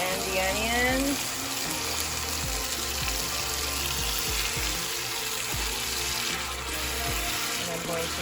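Meat with marinade and onions fries in a hot pan, giving a loud, continuous sizzle with occasional low thumps that lasts throughout, and a brief voice is heard near the start.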